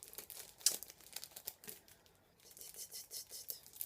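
Paper gift wrapping held with tape is crinkled and torn open in quiet bursts of crackling and rustling, with a short pause in the middle before more crinkling.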